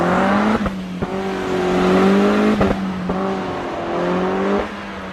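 A Peugeot 308 GTi engine revs and accelerates through several gear changes, a loud close rising drone broken by short shift gaps, running continuously without talk.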